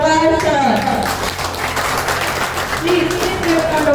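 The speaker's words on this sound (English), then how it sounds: "Please give a round of applause." Audience applause at a company's first anniversary celebration, a steady wash of clapping from a crowd, fairly loud, with voices faintly mixed in.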